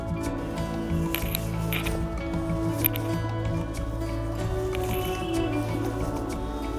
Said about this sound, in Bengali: ছানাটা ভালোভাবে মেখে নিয়েছি